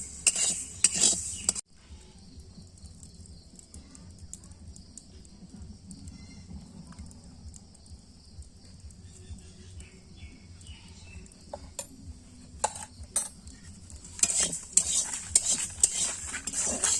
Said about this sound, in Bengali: গোবিন্দভোগ চাল ভেজে নিচ্ছি।